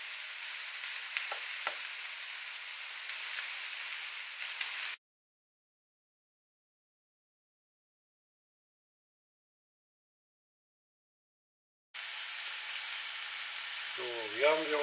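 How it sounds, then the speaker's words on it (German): Chopped vegetables and ground meat sizzle and crackle in a frying pan, a steady frying hiss that cuts out completely midway and then resumes, with a brief voice near the end. "Und lassen das Gemüse jetzt ca. 5 Minuten mit dem Gehacktes weiter anbraten."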